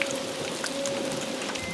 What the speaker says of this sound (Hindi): ये बारिश तो थम ही नहीं रही